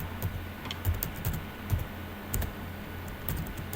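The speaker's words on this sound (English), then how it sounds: "So I will type my name here." Typing on a computer keyboard while filling in name and candidate details for an ICT exam web page task; quick irregular bursts of close, light key clicks with short pauses, no talking.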